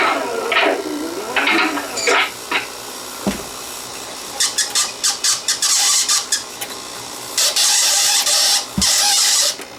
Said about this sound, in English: I know for sure that this tape is not going to play, it's going to stick.